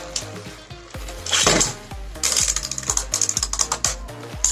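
Beyblade spinning tops launched into a stadium and clashing, with a whirring launch followed by rapid rattling clicks and metallic collisions, close and busy throughout.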